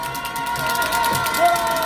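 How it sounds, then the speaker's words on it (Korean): Crowd at an outdoor doctors' rally in front of the presidential office, a sustained mass of cheering and clapping with shouts and a speaker's voice mixed in. "크게 한번 박수 쳐주시기 바랍니다"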